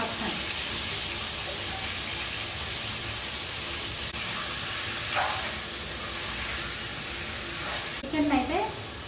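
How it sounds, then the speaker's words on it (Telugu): Chicken pieces frying lightly in a pan for butter chicken, a steady close sizzle and hiss running throughout with faint stirring and a brief clatter near the end. "లైట్గా వేయించుకుందాం ఫస్ట్ లైట్గా వేయించుకొని మనము పక్కన తీసేసుకోవాలి దీన్ని"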